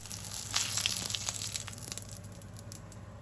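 A pumpkin fritter fries in a hot pan, giving a steady close crackling sizzle with fine popping spatters throughout and no voices.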